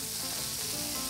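Courgette slices cut into half-centimetre rounds sizzle steadily in a frying pan, a dense, even crackle of hot oil with no voices.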